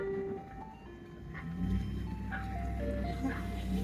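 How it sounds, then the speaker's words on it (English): Ice cream truck playing its tinkly melody of distinct repeated notes, moderately faint and somewhat distant over a low rumbling vehicle engine, with no talk in between. "I love the sounds of ice cream trucks."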